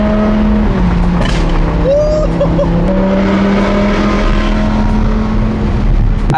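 An Audi R8 with a straight-piped Valvetronic exhaust drives along, its engine holding a loud, continuous drone close by with slight pitch shifts throughout. Faint voices are heard.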